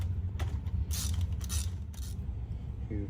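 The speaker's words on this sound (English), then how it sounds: "I'm going to hold the wrench right here" A wrench turning spark plugs on a Honda Civic Type R EK9 engine, giving several short creaking, ratcheting strokes over a low steady hum, close and with no talking.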